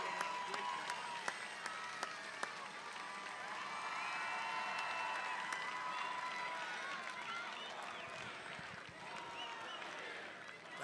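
A crowd at a Trump campaign rally in Prescott, Arizona cheers and applauds continuously, a dense wash of clapping and shouting that swells slightly mid-way and stays loud, with voices mixed into the noise.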